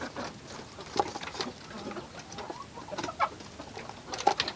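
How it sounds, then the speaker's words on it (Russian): Large chicks in a pen, heard as scattered faint chirps and soft clucking over a busy background of scratching and rustle, with a few brief, sharper peeps standing out. "А такие вот крупные цыплята уже."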